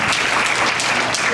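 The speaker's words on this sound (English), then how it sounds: "Let's get a hand clap." Church audience clapping hands together in a dense, steady burst of applause, loud and close, with no talk over it.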